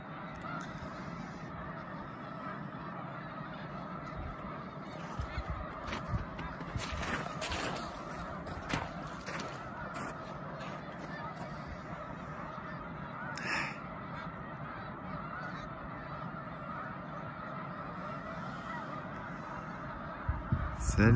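Geese honking by Lac Saint-Pierre, a steady outdoor wash with scattered calls rising above the ambient noise, and a voice briefly heard near the end.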